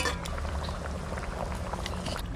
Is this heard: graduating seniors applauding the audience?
no